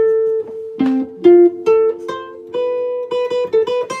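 An instrument plays an arpeggio in a live stream, with clear separate notes rising step by step over a held low tone, close and fairly loud, with no voices.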